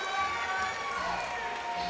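A hometown crowd at a Synergy FC 7 MMA bout roars in a steady, diffuse wash of cheering and whistles, moderately loud and sustained over the whole stretch without any clear speech.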